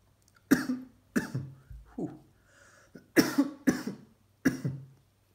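A person coughs repeatedly after a big draw on a Ghost MV1 vape, a cluster of sharp, close bursts in two groups with brief pauses, fairly quiet and without talk.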